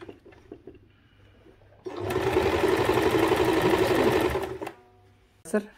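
A sewing machine stitches the hood onto a coat. A few soft handling clicks come first, then a loud, steady, close motor whir runs for about three seconds and stops abruptly.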